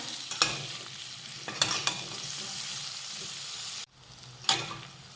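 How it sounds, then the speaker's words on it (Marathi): Eggplant pieces frying in hot oil in a pan, a continuous sizzle broken by several loud scraping stirs, with a brief drop in the sizzle near the end. "अशा ह्या वांग्याच्या फोडी तेलावर व्यवस्थित परतून घ्यायच्या"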